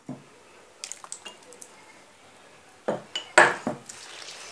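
Sablé cookie dough of eggs and oil being mixed in a bowl, heard as scattered soft clinks and wet squishing strokes, with a few louder scrapes and splats near the end.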